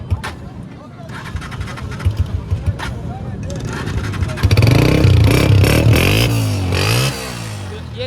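A motorcycle engine at a Karachi bike market is cranked and then starts, idling and revving loudly and close with a rising, falling drone, while people talk nearby.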